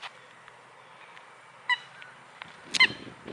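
A duck on a marsh trail at Powell Creek Preserve lets out two short, brassy honks, a few seconds apart and moderately distant, over quiet outdoor ambience with faint bird chirps.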